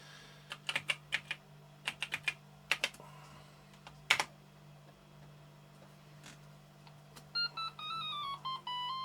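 Keys clatter on the keyboard of an old Toshiba T1200 laptop in quick bursts of crisp, close presses over a steady low hum, followed by a short rising electronic beep melody from the machine.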